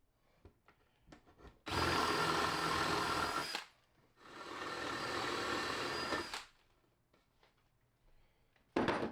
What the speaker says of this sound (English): With a spade drill bit, I drilled about 2 inches into the brace